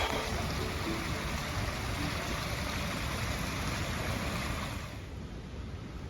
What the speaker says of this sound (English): You can hear the creek is nearby